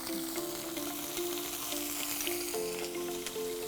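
Ginger garlic paste sizzles steadily in a hot pan while a Bengali dish of green rui fish is cooked, a close, continuous frying hiss with faint tonal hum beneath and no talking.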